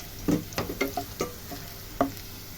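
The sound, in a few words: frying vegetables in oil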